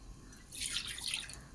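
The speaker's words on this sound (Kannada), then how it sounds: "ಇನ್ನೊಂದು ಸ್ವಲ್ಪ ಸಾಂಬಾರಿಗೆ ನೀರು ಹಾಕ್ಕೊತಾ ಇದ್ದೀನಿ." Water is poured into a pot of sambar, a short splashing pour that rises quickly and then trails off.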